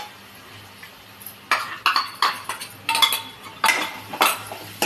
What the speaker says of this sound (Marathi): आणि हा जो बटाटा आपण फ्राय करून घेतला तोही यात आपण असं टाकून देऊया।